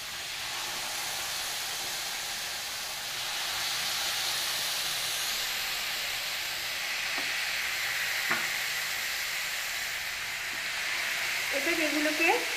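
Chicken kebab sticks fry in butter on a tawa with a continuous soft sizzle and hiss, a couple of faint clicks, and a brief burst of louder sound near the end.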